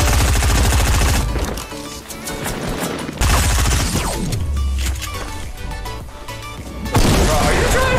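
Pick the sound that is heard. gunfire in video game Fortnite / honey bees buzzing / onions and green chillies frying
gunfire in video game Fortnite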